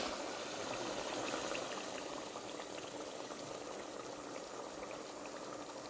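Chicken fries in a pot over a gas flame, a steady dense sizzle and crackle that continues evenly, fairly quiet and with no talking.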